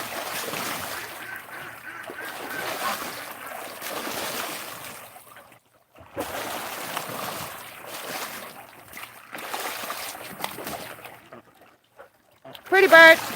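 Five Canada geese splash and flap about in a pool, water churning and slapping in uneven bursts with brief lulls, close by and fairly loud, while a person talks over it.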